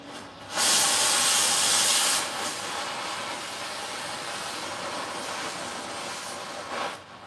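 Torch flame hissing steadily while silver is being melted, a loud burst at first that then settles into a constant broadband rush, with no talk.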